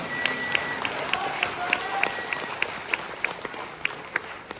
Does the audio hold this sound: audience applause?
yes